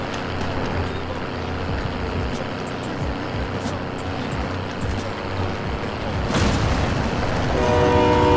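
In a battle royale video game, a train rumbles steadily past and then sounds its horn loudly near the end. The horn holds a sustained tone over the rolling noise.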